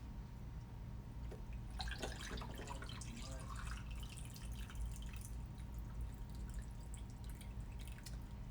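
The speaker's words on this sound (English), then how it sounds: "So I'm going to go ahead and pour this over ice." Ginger turmeric juice, with a little added cinnamon, poured over ice, giving a quiet trickle and dripping that clusters in the first few seconds over a steady low room hum, with no talking.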